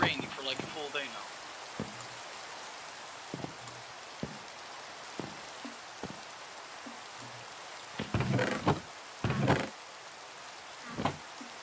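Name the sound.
rain in the video game Minecraft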